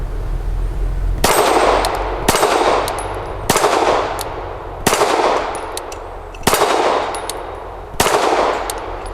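Canik SFx Rival S pistol firing PMC Bronze 115 grain rounds outdoors, six loud sharp shots spaced roughly one to one and a half seconds apart, each with a ringing decay.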